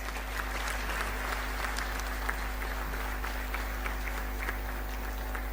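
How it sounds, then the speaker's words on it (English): Sustained audience applause at a university convocation during a gold medal award ceremony, a dense, even roar of many clapping hands over a steady low electrical hum from the hall's sound system. "I think these students deserve a better clap"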